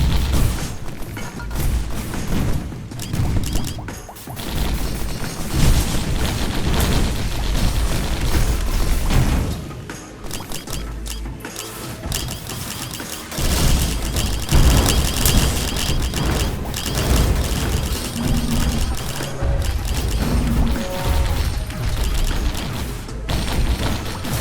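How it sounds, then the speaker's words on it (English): Missiles firing over and over in the video game Risk of Rain during Mercenary play, dense booming bursts and explosions that pile up in a near-continuous loud barrage. "Just firing missiles for days."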